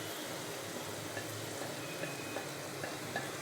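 Turmeric, chili and coriander powder frying with onions in hot mustard oil, a steady soft sizzle with occasional faint pops, moderately quiet and without talk.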